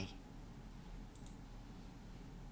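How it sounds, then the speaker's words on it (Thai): A computer mouse gives a couple of faint, brief clicks while support and resistance lines are drawn on a trading chart, set against a quiet, steady background hum. "หลังจากนั้นก็คลิกเส้นแนวรับแนวต้านถัดไป"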